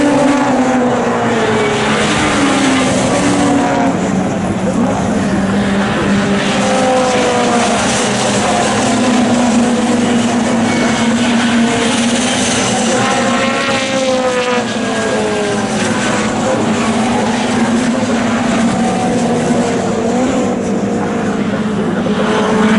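Pre-1966 under-2-litre touring cars racing on a circuit, a loud dense roar of several engines with rising and falling pitches as cars pass close by, continuous throughout.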